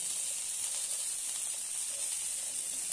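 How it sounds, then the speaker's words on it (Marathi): Green peas roasting in a hot pan give off a soft, steady sizzle and hiss, continuous and close, with no talking. "आता आपले वाटाणे छानपैकी भाजल्या गेलेले आहे"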